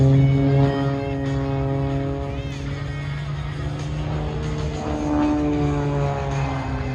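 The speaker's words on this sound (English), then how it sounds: "he continues to rock and roll this Makira Pitts Special biplane back to show center" A Pitts Special biplane flies an aerobatic double avalanche at an airshow, its propeller engine droning loud and continuous with shifting pitch as it loops and rolls, an announcer's voice under the engine.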